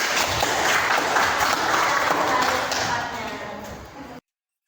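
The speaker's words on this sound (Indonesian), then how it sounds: "berikan aplaus untuk kelompok 4" A class gives a student group a round of applause, a dense, steady burst of clapping lasting about four seconds before it cuts off abruptly.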